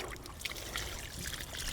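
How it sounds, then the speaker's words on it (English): Water pours and trickles onto garden plants in an outdoor plot, a steady close splashing with small irregular drips, no talking. "I'm just going to pour the water"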